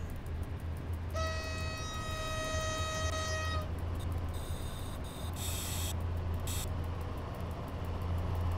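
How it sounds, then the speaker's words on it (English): Diesel locomotive in the SimRail train simulator running loudly, with a steady low engine drone throughout and bright horn-like tonal blasts and hissing bursts over it, no talk. "This thing in diesel running is so loud."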